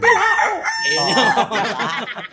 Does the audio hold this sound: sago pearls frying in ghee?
no